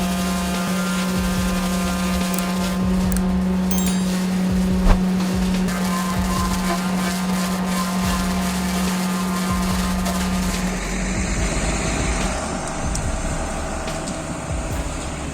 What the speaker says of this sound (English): The Pangipui forestry truck roars powerfully, its high-capacity engine effortlessly transporting hundreds of tons of logs across rough, muddy terrain.